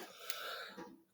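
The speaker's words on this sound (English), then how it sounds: "Can't have a video without coughing." A single short cough from a person recording screen commentary, close to the microphone and fairly quiet, trailing off into silence.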